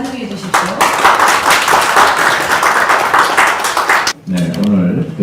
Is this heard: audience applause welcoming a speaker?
yes